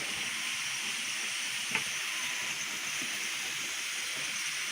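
A pressure cooker valve hisses steam steadily while meat stews inside, a constant near, bright hiss with no talking and one or two small clicks.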